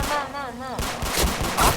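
Pistol gunfire in a Siren Head horror video game: a voice speaks briefly, then a burst of sharp, loud shots cracks out in quick succession, close and punchy.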